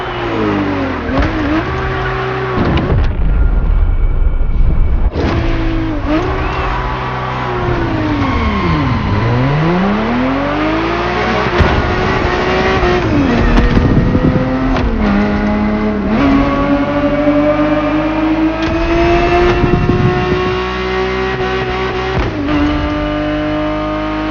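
A Ferrari 365 GTB4 in the Motorfest racing game revs hard and loudly, climbing through the gears with repeated rising whines, brief drops at each shift and long sustained high-rpm pulls.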